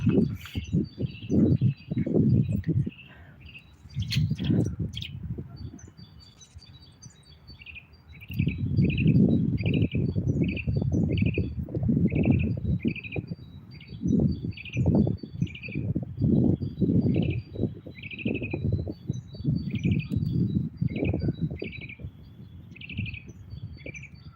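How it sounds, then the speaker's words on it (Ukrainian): A small bird sings repeated high chirping phrases outdoors, steady and clear, over a low rumbling background of wind or distant noise. "Таня, так гарно пташка співає, бабуся Галя, да?"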